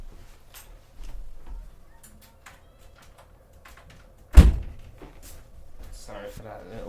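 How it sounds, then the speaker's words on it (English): A window is pulled shut with a single sharp bang in a room where a Beyblade X tournament is under way, a loud thump standing out above quiet background sounds. "Sorry for that little bang in the background, guys."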